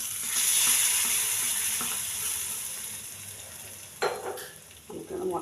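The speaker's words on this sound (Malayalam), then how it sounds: "നമുക്കിത് മൊത്തത്തിലൊന്ന് ഇളക്കി വിടാം." Chicken fries in a pan with a steady hiss and sizzle, and a utensil stirring through it near the end brings a few scraping, clinking bursts.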